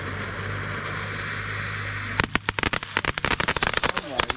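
Fireworks bursting outdoors: after a steady low hum, a rapid volley of loud, sharp cracks and pops starts abruptly, and the explosions continue densely and unevenly to the end.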